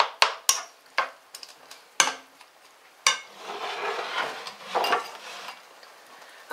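Chopped peppers are stirred into a big cooking pan for a vegetarian lasagna, with sharp utensil knocks and clatters at first, then a longer rustling, scraping stir over a light sizzle.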